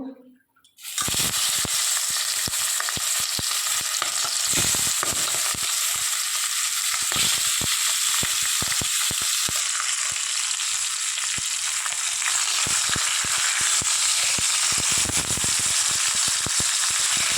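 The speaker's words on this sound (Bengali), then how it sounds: "এবার মাছগুলো একে একে ভেজে নেব।" Pomfret fish dropped one by one into hot refined oil in a pan, a loud, steady sizzle and crackle bursting in after a brief quiet start and holding strong for the rest, with no talking.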